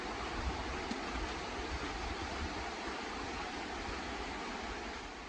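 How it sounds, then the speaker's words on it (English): A creek rushing along the floor of the Grand Canyon, a steady, dense wash of flowing water heard close and continuous with no voices. "Creek just going by me."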